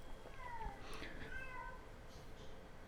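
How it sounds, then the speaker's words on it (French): Cats meowing at home, several short rising meows in quick succession at moderate distance over a quiet room background. "Il y a des chats et des trucs"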